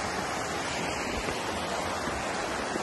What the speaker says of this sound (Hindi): आज जो है बारिश हुई थी इसलिए पानी छल छल छल छल कर रही है